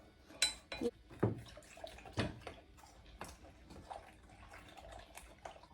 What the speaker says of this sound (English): I am going to take my time about this and stir this